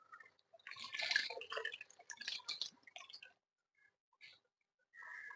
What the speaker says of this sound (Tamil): நம்ம தேவையான அளவு தண்ணி ஊற்றிக்கலாம்.